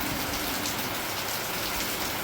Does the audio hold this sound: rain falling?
yes